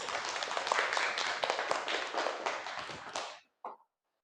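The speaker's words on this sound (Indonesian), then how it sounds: "tepuk tangan untuk semuanya" An audience in a classroom teaching session claps in a dense, sustained burst for about three seconds, then stops abruptly, leaving one short trailing patter of hand claps.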